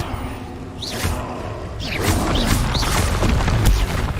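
Spells are cast in Hogwarts Legacy, with repeated whooshing bursts, booming impacts and crashing blasts layered over a rumbling game soundscape, fairly loud and dense throughout.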